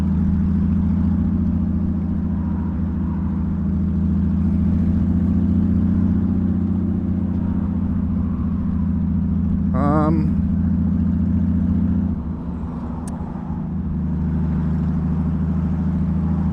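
Inside a car crossing the Pattullo Bridge, a steady engine and road drone holds throughout, with a brief warbling tone midway and a slight dip in the hum near the end.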